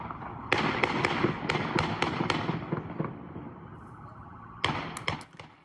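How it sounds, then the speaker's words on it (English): A series of sharp, loud pops, fired singly and in quick clusters, ring out on a street and echo off buildings, then come again in a burst after a short lull. "you can hear what appear to be loud pops of what may be gunfire"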